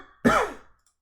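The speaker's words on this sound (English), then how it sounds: "I'm getting a coughing attack." A single raspy throat clear and cough bursts out close by, short and harsh, then fades into silence.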